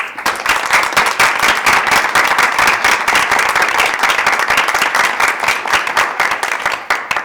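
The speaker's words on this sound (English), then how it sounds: "I think you deserve a round of applause." Applause at a board of education meeting: a room full of people clapping loudly and continuously for several seconds, dense and sustained before tapering slightly at the end.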